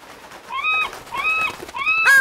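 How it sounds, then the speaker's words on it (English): Cartoon seagulls give three drawn-out, rising-and-falling cries in quick succession, clear and close, with no speech over them. "those seagulls are pecking at the Mola"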